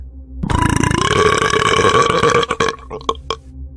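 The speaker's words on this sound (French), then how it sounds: "C'était un rot." A long, loud, drawn-out burp right up close, rumbling for about two seconds before trailing off into a few short clicks.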